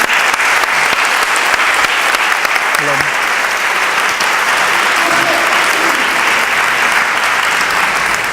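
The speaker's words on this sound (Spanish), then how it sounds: "Un aplauso, por favor" An audience at a round-table talk on health and emotions gives steady, loud, sustained applause that fills the whole stretch without any break.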